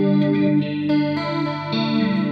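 Electric guitar run through a chorus effect plays a short phrase of shimmering sustained notes, loud and close, without any talking.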